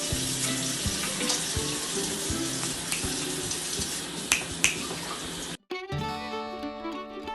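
Water runs steadily from a tap into a sink in a home kitchen while hands are washed under the stream, with a few sharp clicks and a brief cut near the end before the flow resumes.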